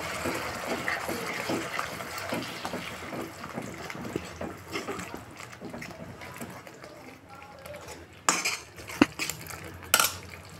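Cream is stirred into paneer gravy in a kadhai, with soft wet mixing sounds, scattered metal spoon clinks, and a few sharper knocks against the pan toward the end.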